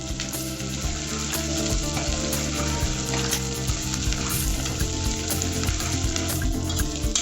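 Sliced onions and green chilies fry with ginger-garlic paste in an oiled pan for a potato gravy, a loud continuous sizzle with occasional stirring scrapes, and no voices.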